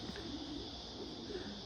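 Racing pigeons coo softly inside a loft, low murmuring calls repeating under a steady hum of background noise, faint and somewhat distant.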